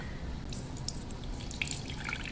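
Water wrung out of a reusable cloth, dripping and trickling in scattered splashes over a steady low background, no voices.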